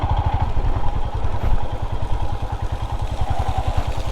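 A Royal Enfield Himalayan motorcycle rolls over a rough road in the Himalayas of Himachal Pradesh, its single-cylinder engine thumping steadily and loudly up close, with rattles and clatter from the bumpy surface.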